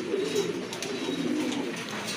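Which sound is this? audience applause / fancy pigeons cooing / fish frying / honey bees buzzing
fancy pigeons cooing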